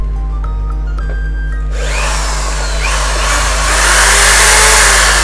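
A Bosch three-function 220V electric drill switches on after a quiet start and its motor whines up steadily, rising in speed and loudness and holding a strong, continuous high-pitched drone close by.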